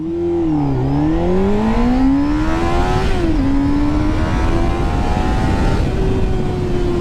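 A Honda Hornet motorcycle accelerates hard from a standstill, its engine note climbing loud and close through several gears with brief dips at each shift, then holding a high steady whine.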